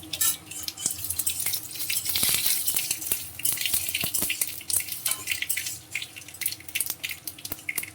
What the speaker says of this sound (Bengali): আর হচ্ছে সর্ষে ফোড়ন দেব, আর কারি পাতা ফোড়ন দেব